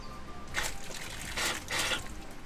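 Water from a gravity-fed pipe runs and splashes steadily close by, surging in a few uneven pulses with no voices.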